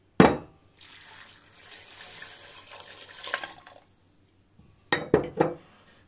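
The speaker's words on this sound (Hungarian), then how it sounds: "és mehet rá a víz." Water runs from a tap into a metal pressure cooker pot for bean goulash, a steady splashing pour of a few seconds, bracketed by sharp clinks and clatters of the pot and utensils.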